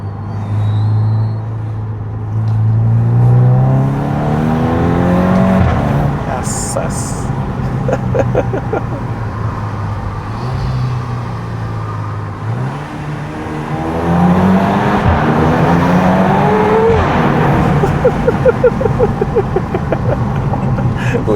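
A 2014 VW Scirocco R engine rising and falling in pitch as it accelerates through quick successive DSG gear changes, with people talking excitedly over it.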